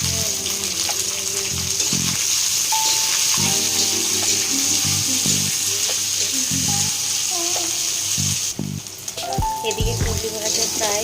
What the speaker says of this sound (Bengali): এদিকে কুঁদলি ভাজা প্রায় হয়ে এসছে।